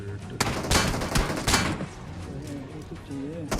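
Gunfire crackles in a BGMI battle royale match, with several sharp bursts of shots in quick succession over a busy game soundscape, mid-loud and close.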